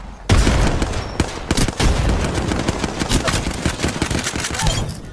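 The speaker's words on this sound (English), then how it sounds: "I use far too many bullets to lead a moving target" Rapid automatic gunfire from the Apex Legends video game, loud sustained bursts of shots rattling close up in a continuous stream with brief pauses.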